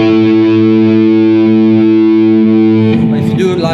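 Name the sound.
guitar fifths through Ratin Blue Angel distortion pedal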